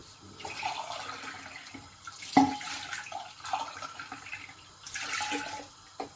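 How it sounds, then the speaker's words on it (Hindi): About four cups of water pour steadily into a cooking pot for black chickpeas, a hollow splashing rush rising and falling in bursts, with a brief clunk partway through. "तकरीबन 4 कप हम पानी डालेंगे इसमें।"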